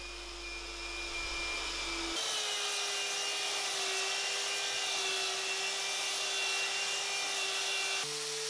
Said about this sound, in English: I made this jig for sanding the edges of the tabletop